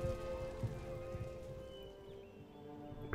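Rain falling steadily, a continuous soft hiss of drops on a surface heard under a game's ambient soundtrack, moderately faint and without talk.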